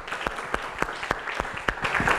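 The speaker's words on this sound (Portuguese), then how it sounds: "eu já vou pedir uma salva de palmas" A short burst of audience applause at a university event, with steady clapping from a crowd in a hall, fairly close and with no talking over it.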